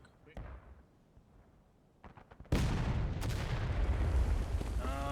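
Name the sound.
musket volley firing in video game War of Rights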